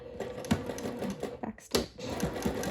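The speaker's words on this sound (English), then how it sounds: "I'm just going to sew those in place" A domestic sewing machine set to a 2.5 construction stitch sews gathers in place at a half-inch seam allowance, running slowly in close, steady rhythmic clatter broken by a short pause midway.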